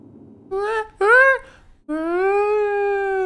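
A dog howls in the survival horror game Resident Evil: two short rising wails, then one long sustained tonal howl, clear and close against a quiet background.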